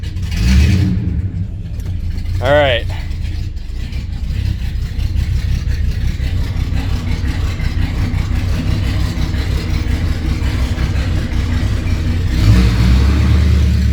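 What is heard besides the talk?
straight-piped car exhaust revving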